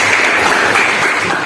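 A crowd claps steadily, a dense, continuous patter of applause filling the space with no voices standing out.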